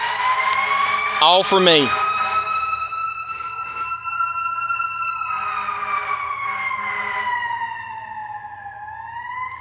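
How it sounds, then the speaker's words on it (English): An emergency vehicle siren wails along a nearby road, its long sweeping tones rising and falling loudly and steadily, with a brief spoken phrase near the start. "This here, come through here wide open with a siren."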